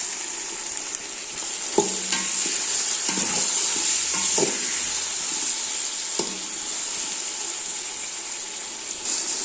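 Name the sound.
sautéing onions and tomatoes in a pan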